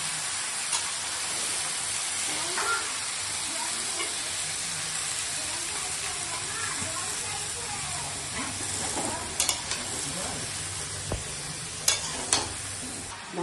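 Spices and vegetables such as pointed gourd lightly frying in a pan, a continuous gentle sizzle and hiss with occasional stirring scrapes and clicks toward the end.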